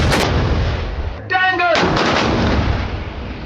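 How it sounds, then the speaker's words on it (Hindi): Indiscriminate gunfire sound effect, heavy booming shots and rumbling blasts filling the whole stretch, loud and close, with a brief tonal squeal in the middle. "तभी दोपहर 4:30 पर अंधाधुंध गोली चलने की"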